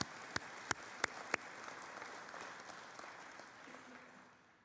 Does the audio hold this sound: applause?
yes